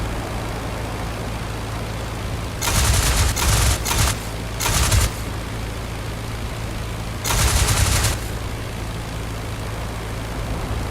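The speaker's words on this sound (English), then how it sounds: "There goes a tail gunner again, shooting at me." Tail gunner on a bomber in IL-2 Sturmovik 1946, during an attack on Pearl Harbor, firing several short bursts of machine-gun fire over a steady aircraft engine drone, with two rattling volleys a few seconds apart.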